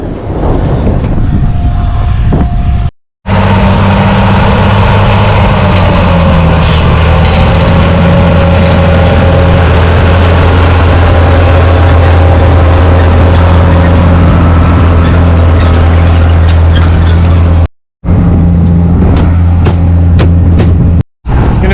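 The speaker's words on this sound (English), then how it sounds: "Do you hear that tractor just howling?" Loud, sustained engine drone from a tractor planting seed in a field, its pitch shifting slightly, with a few brief cutouts; up close, no talking.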